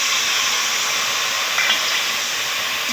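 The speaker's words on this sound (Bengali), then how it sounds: "সরষাটাকে একটু ভালো করে ভেজে নেব।" Mustard paste frying in hot oil with already-fried onions for a fish dish, giving a loud, steady, close sizzle and hiss that runs unbroken throughout with no talking.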